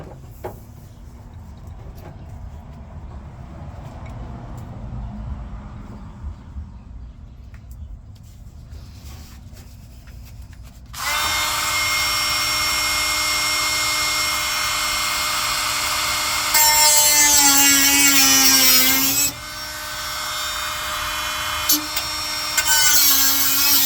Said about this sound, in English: Finish up with the Dremel.